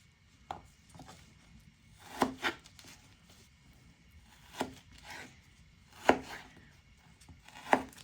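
A knife chops homemade sausage meat into cubes on a board, giving a few sparse, soft thuds spaced unevenly across several seconds in a quiet kitchen.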